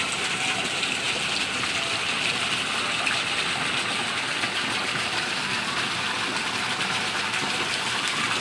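A water feature at a heritage hotel in Jaipur gives a continuous, even rush of flowing, splashing water, loud and close, with no pauses.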